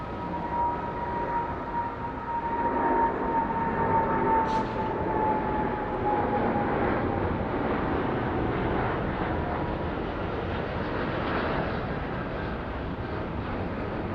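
Velocity flight 1531 touching down on runway 34 left at Sydney Airport: a steady broad roar of an airliner on landing, fairly distant and continuous for the whole stretch, with no talk over it.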